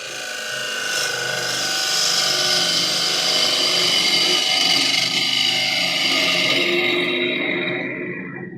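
Woodturning tool being sharpened on a powered grinder, a loud continuous whirring grind with steady tonal hum that holds evenly for several seconds, then fades away as the machine winds down near the end.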